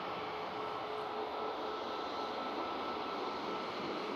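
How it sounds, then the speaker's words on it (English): An airliner taxis at Manchester Airport, a steady muffled jet engine hum at moderate distance, unbroken and even for the whole stretch. "Right now, just taxiing out."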